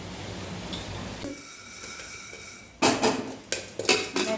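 Jowar (sorghum) grains popping in a covered pan over high heat, a quiet lull giving way to loud clattering bursts and rattles against the pan and lid.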